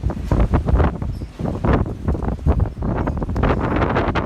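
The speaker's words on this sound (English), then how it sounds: "strong winds today definitely are not helping" Loud gusting wind on a night in southern Arizona buffets the microphone in rough, uneven surges, roaring and rumbling close up with no voices.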